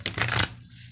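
Wild Unknown Tarot cards being shuffled, a short close riffling burst of card edges that stops after about half a second.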